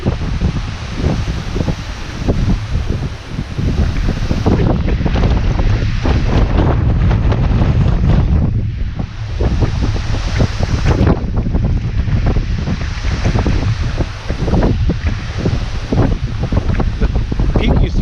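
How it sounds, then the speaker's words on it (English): Heavy wind buffets and flaps against a jacket hood right at the microphone, a constant loud roaring rumble with gusty swells throughout. "You can probably hear the wind blowing my hood."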